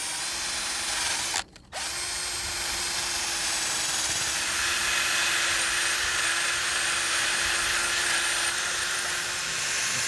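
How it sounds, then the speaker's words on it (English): A loud, steady power tool drone runs throughout, with a brief cutout near the start, then continuous whining and grinding on a Mustang GT engine in a parking lot, with no talking. "They brought power tools out here in the middle of the parking lot."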